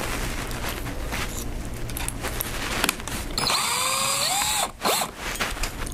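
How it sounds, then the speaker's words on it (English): Power drill boring pilot holes into oak wood during a build, steady whine for a few seconds then a rising tone with a short pause and restart, close and fairly loud. "put some pilot holes in there"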